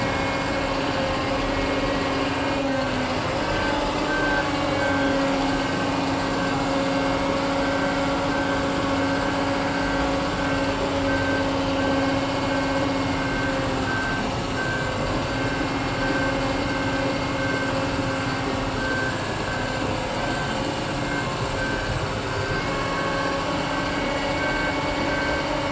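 A bulldozer tears up and blades gravel, its engine a constant loud diesel rumble and clatter throughout, with a faint steady reversing beep threaded over the machinery and no talking.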